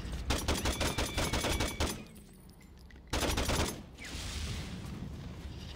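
Rapid bursts of automatic gunfire in the video game Saints Row 2, loud and close, stopping for about a second and then resuming before giving way to a sustained rushing blast.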